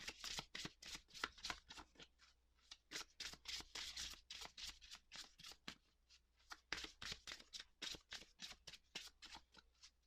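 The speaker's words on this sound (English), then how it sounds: "let's give this a shuffle. It is matte. It shuffles beautifully. I love the sound it makes." Crisp, rapid riffling of a matte-finish deck of playing cards being shuffled, repeated bursts of flicking with brief pauses between rounds, close and clear.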